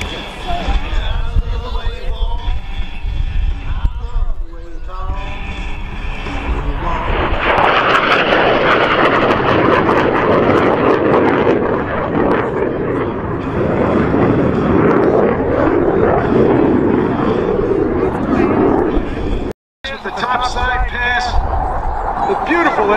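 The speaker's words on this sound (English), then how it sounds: "That aircraft operated here in the middle 1970s, flown by the 107th Fighter Squadron" A military jet roars over the Selfridge air show, an aircraft type once flown by the 107th Fighter Squadron. Loud, broad, sustained engine thunder swells in after quieter crowd sounds with voices and stays strong before a brief dropout near the end.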